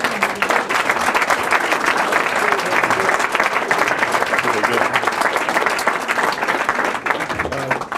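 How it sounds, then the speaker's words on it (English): Sustained applause from a dinner audience at an award event, dense clapping filling the room with a faint murmur of voices underneath, holding steady before thinning slightly at the end. "you were clapping for George"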